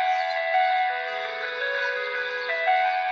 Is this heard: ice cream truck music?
yes